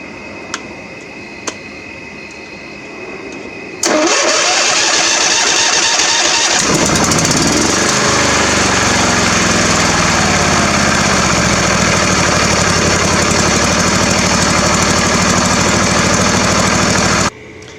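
A John Deere lawn tractor engine cranks and catches after a few seconds, then runs loud and steady close by, a busy mechanical drone with a low, uneven chug settling into its idle.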